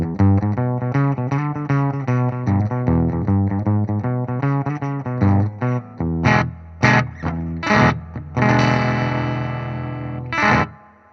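An electric guitar runs through an EHX Ripped Speaker fuzz pedal set for a subtle 1950s style tone, with a quick rhythmic chordal riff followed by a few punchy stabs and a held chord, played alone.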